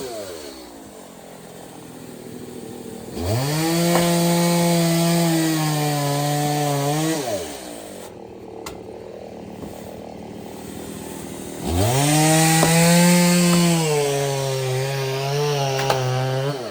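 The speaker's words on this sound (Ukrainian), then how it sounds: "Так, за цієї ось пили акумуляторів вистачає попиляти на ось таку невеличку кучку." A battery chainsaw cuts firewood in two long passes, its motor whining up to a steady high-pitched cutting tone, then dropping away between cuts. It is close and loud with no speech.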